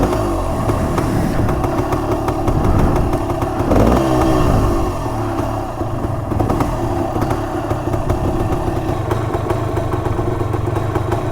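A 400cc two-stroke motorcycle engine idles roughly and loudly up close, a continuous uneven burble with a slight rise in revs partway through and mechanical clatter throughout.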